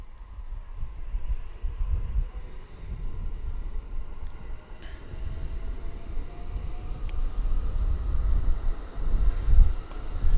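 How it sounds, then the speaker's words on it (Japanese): Low rumbling of a train rolling along the rails into Namie Station, Japan, steady and fairly loud, with faint squeals and rattles over the drone. "列車は浪江駅に到着しました"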